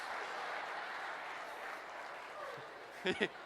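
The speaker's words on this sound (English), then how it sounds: "That round of applause is important" Audience applause at a leadership speaker's talk: a steady, moderately distant wash of many hands clapping that carries on evenly, with a couple of brief louder knocks near the end.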